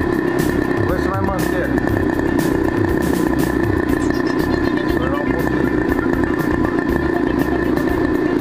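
A model airplane glow engine runs steadily close by, its dense buzzing drone continuous throughout with slight shifts in pitch as the low-speed needle is adjusted, alone without talk.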